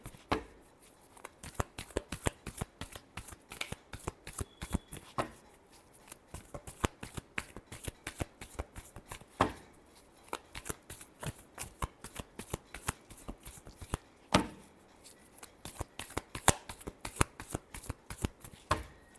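Tarot cards being shuffled by hand produce rapid, crisp flicks and riffles, repeated in quick bursts for a long stretch, close and clear with almost no talk.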